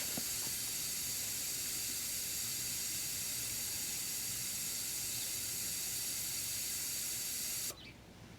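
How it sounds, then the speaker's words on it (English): Air hisses steadily out of a tire through a tire deflator, a loud, close, continuous rush that stops abruptly near the end. "So you can hear that the air coming out, and it'll stop completely."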